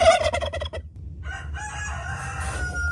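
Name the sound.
turkeys gobbling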